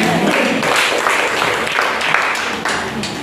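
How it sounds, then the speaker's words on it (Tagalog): A congregation inside a church claps in a burst of dense, fairly loud applause with rhythmic pulses, and faint voices mixed into the clapping. "Kaya po ba kalakas ang palakpak kay Jesus?"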